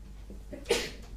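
A single sharp sneeze bursts out briefly in a quiet room during a maths lecture, fairly close and loud against low background hum.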